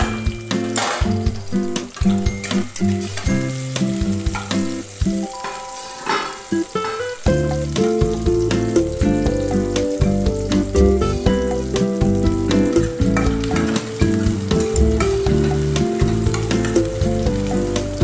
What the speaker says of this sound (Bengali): এখানে আমরা পেঁয়াজটাকে ভেজে নেব।